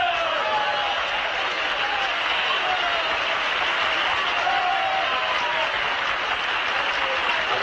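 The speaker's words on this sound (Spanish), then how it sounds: "Agradezco estos aplausos tan desnutridos, a la par que merecidos" A crowd applauds a comic political speech, continuous dense clapping at a steady level from start to finish, with a few voices mixed in.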